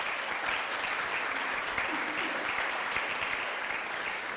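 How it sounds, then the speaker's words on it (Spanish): A church congregation applauds during a Spanish-language sermon, a dense, steady wash of many hands clapping close and loud for the full few seconds without a break. "dale un fuerte aplauso a Jesús."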